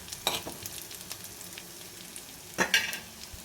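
Coriander seeds, urad dal and cumin fry in hot oil and are stirred, giving a steady sizzle broken by two louder scraping stirs.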